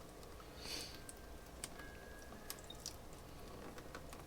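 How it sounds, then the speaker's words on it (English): Thick teriyaki sauce poured into a marinade container for honey teriyaki sesame salmon, heard as faint, close dribbling and scattered drips in a quiet kitchen with no talking. "basically pour the teriyaki in."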